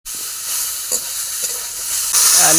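Pumpkin stems cooking with fish in a pan give off a steady bright hiss and sizzle that swells louder near the end, with a few soft clatters.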